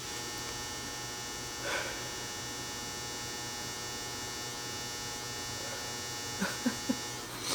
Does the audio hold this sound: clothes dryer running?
yes